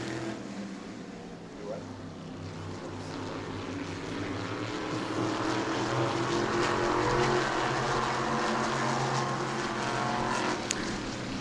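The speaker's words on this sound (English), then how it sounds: "Christopher Hatton running the bottom of the racetrack there" Race cars circle the New Smyrna racetrack during a heat race, a moderately distant, steady engine drone that swells gradually over the span.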